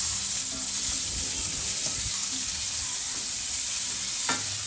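Tomatoes sautéing in a frying pan for sinigang, a steady close sizzle with occasional stirring scrapes and a brief louder clatter near the end, no talking.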